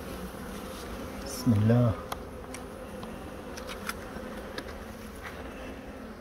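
Honeybees buzz around an open hive frame of capped honeycomb, a steady low hum running under the whole clip, with a voice speaking briefly near the start.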